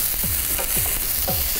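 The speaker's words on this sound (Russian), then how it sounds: "Первым выкладываем лучок." Chopped onion sizzles steadily in a hot wok, with a constant bright hiss and a few soft scraping stirs, close up and with no voices.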